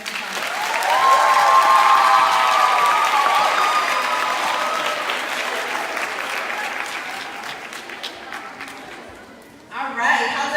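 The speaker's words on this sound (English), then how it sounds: "Please give a round of applause for Dr. Jasmine Zapata." Sustained audience applause, loud and steady for several seconds, with a few cheers mixed in, tapering off before a voice starts speaking near the end.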